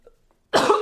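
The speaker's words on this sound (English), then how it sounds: "I can't stop coughing." A single harsh cough burst from a person nearby after a brief silence, loud and close, with a rough throaty tail.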